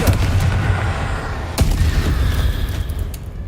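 A Confringo spell blast in Hogwarts Legacy on PC bursts out as loud, dense booming explosions over a rumbling battle, with a sharp crack midway and continuous gunfire-like crackle around it.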